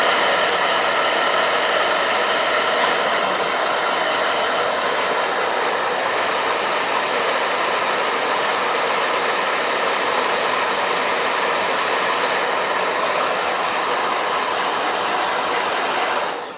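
A hair blow dryer runs in one steady, loud broadband rush of air, holding even the whole time, with no voices, before cutting off at the very end.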